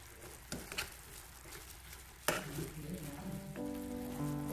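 Chicken wings frying in fish sauce in a pan, a soft steady sizzle with a few sharp pops and clatters, a faint tonal sound rising near the end.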